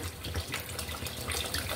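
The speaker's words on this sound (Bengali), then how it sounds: "আমি আরও পানি দিয়ে দিলাম।" Water pouring into a frying curry of jackfruit seeds and dried ribbonfish, a short continuous splashing gush that fills the moment with bubbling liquid noise.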